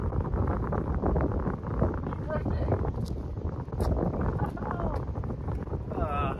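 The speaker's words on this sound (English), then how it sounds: "Screw the wind." Strong wind buffeting the microphone on a disc golf course, a constant loud rumbling gust with brief louder bursts throughout, some faint voices mixed in.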